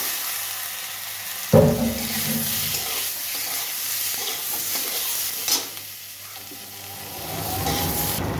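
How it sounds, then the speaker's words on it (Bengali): Boiled potatoes drop into hot oil in a pan with a sudden burst of sizzling, followed by a steady frying hiss and occasional scraping stirs, with no talking. "এবার আমি আলু দিয়ে দেবো, সেদ্ধ আলু দিয়ে দিচ্ছি।"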